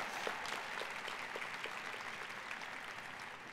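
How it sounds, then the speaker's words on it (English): Steady, fairly faint applause from a crowd at a Heinz College diploma and awards ceremony, honoring graduates' families and loved ones; the clapping stays even throughout without voices. "please give your family and loved ones who are here a round of applause"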